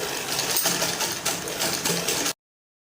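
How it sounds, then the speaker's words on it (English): Sewing machine stitching a seam with a normal seam allowance on a ready-to-wear garment, a steady close mechanical whir that runs continuously and then cuts off abruptly. "So I'll sew with my normal seam allowance."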